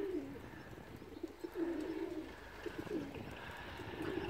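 Racing pigeons in a loft coo in soft, low, rolling calls that recur through the clip, faint and somewhat distant against steady background noise.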